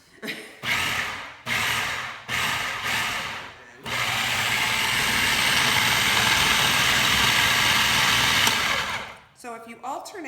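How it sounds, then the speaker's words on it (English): Food processor blending strawberries for ice cream, first in three short pulses with pauses between them, then running in one long continuous whir before stopping, loud and close. "I'm going to start pulsing this until my fruit is all incorporated and it is starting to look a little frothy"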